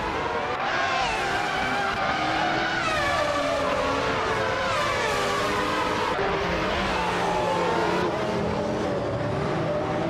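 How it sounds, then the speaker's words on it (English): A 1995 Ligier JS41 and other Formula One cars race at Adelaide in a racing video game, engines wailing loud and continuous, with pitches sweeping up and down through gear changes and tires squealing. "the race just kicked off at Adelaide, and Maya is starting on pole position"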